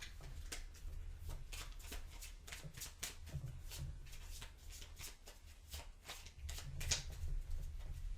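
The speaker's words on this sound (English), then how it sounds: "And I believe I shuffle my deck." A deck of cards is shuffled repeatedly during a tabletop card game, giving a close, steady run of riffling and flicking bursts for several seconds with no voices.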